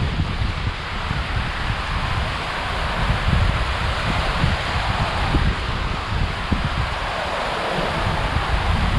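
A city water fountain in Perth, Australia, spraying water upward in a dense, continuous hiss and rush that stays loud and even throughout, with wind buffeting the microphone.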